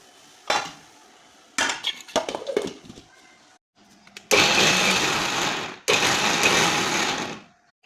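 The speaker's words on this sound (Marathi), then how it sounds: "तर मिक्सरमध्ये इथे मी कांदा आणि टोमॅटो बारीक करून घेणार आहे" An electric kitchen mixer grinds onion and tomato in short bursts, starting with a few rattling clanks and then two long, loud whirring runs of the motor, with a pause between them.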